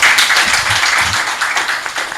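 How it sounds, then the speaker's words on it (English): Audience applause at a public PhD defense, a brief burst of dense clapping from many hands that tapers slightly over two seconds. "Please let's applaud the critical reader"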